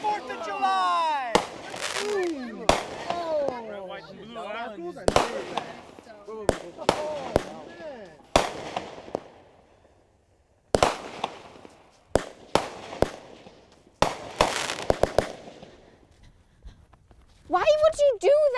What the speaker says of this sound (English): Everett, people have been shooting illegal fireworks almost this entire year